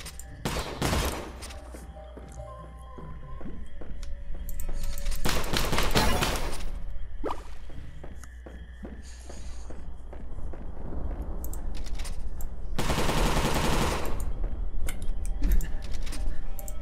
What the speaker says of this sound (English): Me shooting a gun doesn't freak you out.